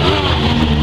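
Mini stock and six shooter race cars at Taipa circuit, a loud close engine roar with a steady droning rev held throughout a very short burst.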